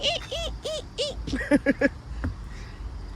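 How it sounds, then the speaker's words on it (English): Outdoors near a house with a vegetable garden, a bird gives a few quick repeated calls close by, followed by several sharper chirps, with light background noise and no talking. "Mr. Bird, I hear you"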